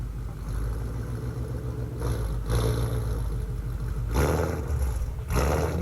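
A Ford Mustang GT engine rumbling loud and close, a deep steady idle broken by throttle blips that swell into roaring revs, with no talk over it.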